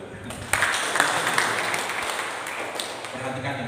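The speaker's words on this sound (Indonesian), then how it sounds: "tepuk tangan buat Tuhan" A church congregation breaks into applause during a sermon, a dense wash of clapping that swells near the start and carries on steadily with voices mixed in.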